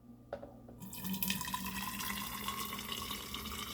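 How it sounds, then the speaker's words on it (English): Hot water poured into a thermal flask: a brief clink, then a steady, close rushing stream of liquid that continues without a break. "And we're gonna dump this water in."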